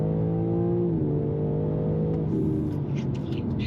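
A BMW G82 M4 xDrive accelerates hard from inside the cabin, engine tone climbing steadily through the revs with a brief shift, loud and continuous with no talking.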